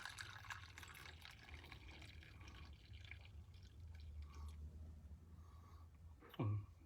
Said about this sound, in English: Let's just pour some of that in.